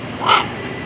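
At Miami Seaquarium, a bird gives a single short, harsh, crow-like caw that rises clearly above light background ambience.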